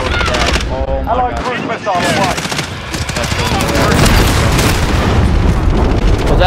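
Dense gunfire and booming blasts from a cruise missile strike in Call of Duty: Modern Warfare multiplayer, a loud continuous barrage of shots and explosions with voices talking over it.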